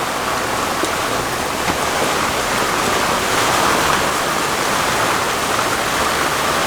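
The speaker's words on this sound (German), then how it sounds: "Regnet ein bisschen." Steady rain pours down on a typical morning in Panama, heard aboard a sailboat as a dense, loud, continuous hiss of drops on surfaces, close and unbroken, with no voices.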